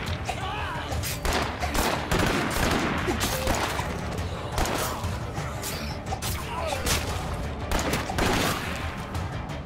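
Rapid gunfire in State of Decay 2, repeated shots and automatic bursts mixed with impacts and crashes, with voices talking over the fighting.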